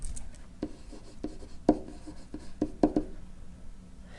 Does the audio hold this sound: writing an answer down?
yes